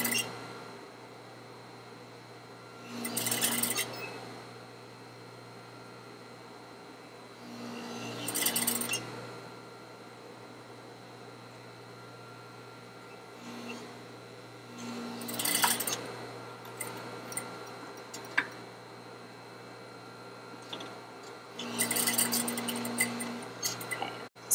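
Sewing machine running short bursts of stitching along a curved fabric seam, four or five loud stretches separated by quiet pauses, close up with no talk.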